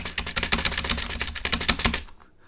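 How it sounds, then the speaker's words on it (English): Rapid keyboard clicks from a space button, a quick irregular run of sharp close taps lasting about two seconds before stopping, with no talking. "I can click space button as you hear,"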